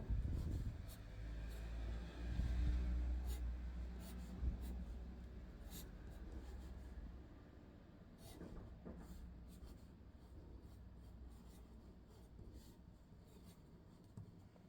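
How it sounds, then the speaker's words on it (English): Pencil sketching a full-body figure on paper, a steady soft scratching with quick strokes and taps, close and quiet with no voice. "If I take a full body and I draw it over here"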